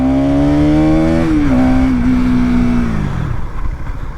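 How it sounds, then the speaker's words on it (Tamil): Bajaj NS200 BS6 motorcycle braking to a stop on the rear brake alone, its loud engine tone held steady and then dropping in pitch as the bike slows and skids, fading into rumbling road noise at the end. "ஸோ இப்போ நான் ரியர் பிரேக் மட்டும் யூஸ் பண்ணி நான் உங்களுக்கு நிறுத்தி காட்டுறேன்."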